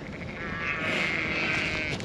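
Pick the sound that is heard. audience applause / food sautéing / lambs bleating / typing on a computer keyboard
lambs bleating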